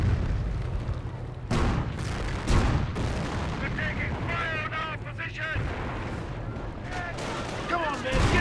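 A Calliope rocket barrage in the Company of Heroes video game, with repeated loud explosions and artillery booms crashing close together over battle noise, while a commentator talks throughout.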